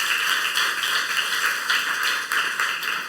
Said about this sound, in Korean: 하나님의 말씀을 즐겨 듣고 그 말씀을 순종하는 것이 하나님을 경외하는 삶인 걸 믿는 사람만 박수를 하나님께